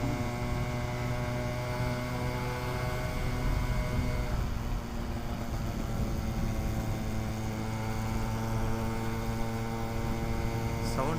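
Yamaha RX135 two-stroke motorcycle ridden on a highway, a constant loud engine drone under heavy wind rush, with steady harmonic tones that shift slightly in pitch as the ride goes on.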